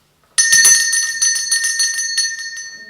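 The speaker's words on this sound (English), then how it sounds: "That's the lunch bell." A school lunch bell rings suddenly and loudly, a sustained metallic electric clang with pulsing strokes that carries on for a few seconds with no talk.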